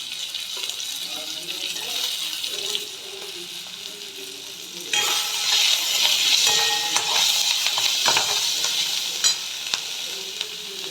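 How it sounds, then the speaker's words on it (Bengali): Chopped capsicum and beans fry in a hot pan for a mixed vegetable dish, with a steady, close sizzle and scraping stirs that grow louder and more vigorous midway. "এবার আমি ক্যাপসিকাম, বিনস এগুলো দিয়ে দিলাম।"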